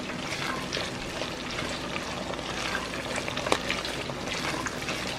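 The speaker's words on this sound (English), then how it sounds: "So I'm going to stir, I'm going to fry it at least 3 to 4 minutes to make sure it's well fried" Jollof rice being stirred and fried in a pot, giving a steady dense sizzle with soft scraping and liquid movement throughout, close and even in level, with no talking.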